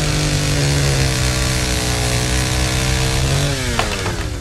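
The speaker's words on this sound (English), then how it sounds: "Chainsaw!" Chainsaw in the Nightmare of Decay video game, a loud, close two-stroke snarl that holds steady, then rises in pitch as it revs up near the end, with no voices.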